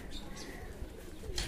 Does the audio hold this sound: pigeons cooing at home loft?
yes